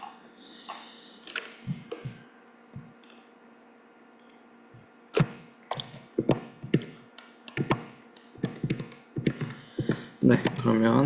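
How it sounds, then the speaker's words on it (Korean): Rapid clacking of laptop keys in irregular bursts, close and fairly loud, with pauses between flurries of typing. "키보드 소리가 너무 큰가요?"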